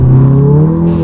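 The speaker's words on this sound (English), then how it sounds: "So talk about this exhaust a little bit. It is a little droney in this car." Exhaust drone from a 2015 Volkswagen Golf GTI with a 2.0-liter turbo engine, a loud, steady low hum with layered harmonics, heard up close and alone.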